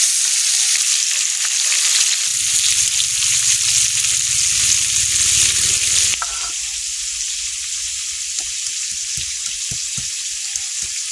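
Silver carp pieces rubbed with salt and turmeric are dropped into hot oil in a wok and sizzle loudly and steadily, the hiss shifting and settling partway through, with small spatters.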